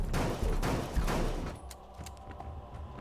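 A burst of rapid gunfire from the video game Lovecraft's Untold Stories 2 rattles loudly and then cuts off after about a second and a half. It leaves quieter scattered game noises and a faint lingering tone.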